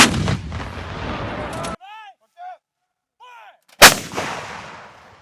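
Artillery guns firing on command, two loud close blasts separated by a long pause, each with a sharp crack and broad rumbling decay; faint whistle-like chirps fill the gap between them.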